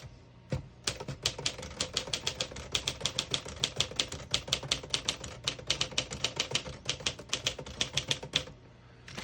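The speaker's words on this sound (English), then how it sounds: "I'll type a sentence on the next line." A 1952 Smith-Corona Silent portable typewriter being typed on, producing a steady run of crisp, closely spaced key strikes with a clear mechanical clack and a brief pause near the start.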